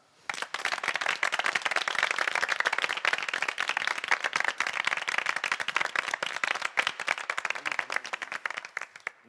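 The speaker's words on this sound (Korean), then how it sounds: "우리 뜨거운 박수로 감사의 마음을 전합시다." Applause rises quickly and keeps going as a close crowd of hands claps in a dense, crackling wash at an assembly, holding steady with no talk over it.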